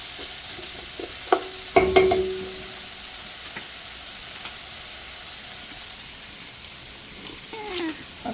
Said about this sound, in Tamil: இதையும் சாடியாக வதக்குறோங்க.